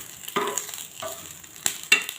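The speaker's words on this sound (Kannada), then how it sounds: "ನೋಡಿ, ಫ್ರೈ ಆಗ್ತಾ ಉಂಟು." Dried fish fries in a pan for dry fish chutney, with a faint sizzle broken by a few sharp scraping stirs and bursts of crackle, close by and with no talking.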